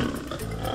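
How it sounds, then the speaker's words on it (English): A lion gives a short, rough roar that swells and holds as one steady burst for under a second, with no voices over it. "A lion. A lion."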